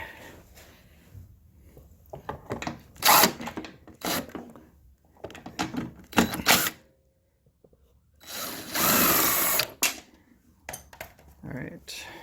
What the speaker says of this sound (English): Next thing is I will take off this 3/8 bolt here on the bottom.